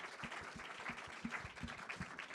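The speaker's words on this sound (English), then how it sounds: "Let's have a round of applause for her." An audience claps for the writer and creator of a British drama series, with individual claps standing out distinctly from the general applause. The clapping is brisk and even, and no voices come through over it.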